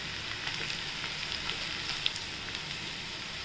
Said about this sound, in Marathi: आणि याच्यात आपण आता एक हलवून घेऊया।